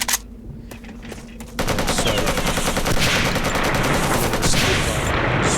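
Sniper and automatic gunfire in a first-person shooter game, a dense, continuous barrage of loud rapid shots with sharp onsets after a quieter opening, no talk.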